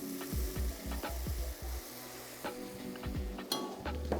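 Mushrooms are stirred into a sizzling pot of vegan stew with tomatoes and onions, a soft frying hiss under a series of low, knocking spoon strokes against the pot.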